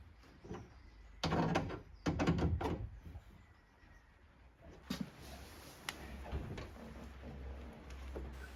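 A window glass is lowered into the door of a 16v Lancia Integrale and seated in its side runners, giving several sharp clunks and rattles separated by quieter pauses, close and without talk.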